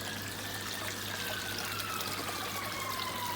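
Water pours and trickles steadily from a koi pond filter outlet in a continuous, even stream, close by, with a faint low hum underneath and no talking.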